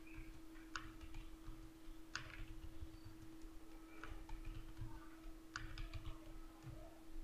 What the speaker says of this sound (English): Then write anything on our keyboard.